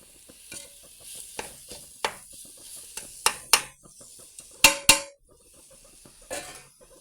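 Tomato rice masala stirred and sautéed in a pan, with repeated close scraping strokes of a spoon against the metal over a light, steady sizzle, the strokes coming in uneven bursts with brief louder clanks.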